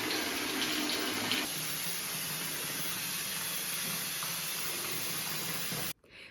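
Water pours steadily into a freestanding bathtub in a castle bathroom, a constant close rushing hiss that stops abruptly near the end.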